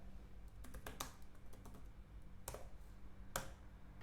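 A computer keyboard clatters as a git command is entered in a terminal, with a rapid run of close key clicks followed by two louder, separate keystrokes, all fairly quiet over a faint steady background hum.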